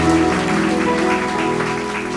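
Congregation applause in a church during a worship service, a steady wash of clapping for about two seconds with sustained music tones held underneath.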